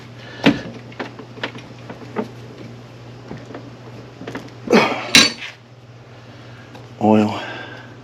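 Metallic clanks and clinks as an exhaust manifold part is clamped and cinched tight in a shop vise, scattered sharp knocks with a couple of louder scrapes near the end, close by and without talk.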